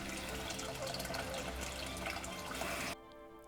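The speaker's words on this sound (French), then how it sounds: "La fontaine Notre-Dame ou Pourrutte du village" Water pouring steadily at the Notre-Dame fountain in the village of Moliets, a close, bright continuous splashing that cuts off abruptly near the end.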